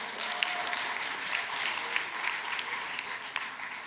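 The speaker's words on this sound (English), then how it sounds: "what about a round of applause for those few men that are hanging in here?" An audience at a conference panel applauding steadily, a dense patter of many hands clapping at an even level throughout.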